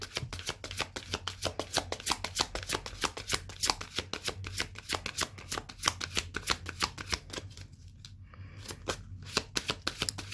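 Tarot deck shuffled close up, a fast steady run of crisp riffling card slaps, briefly pausing before resuming.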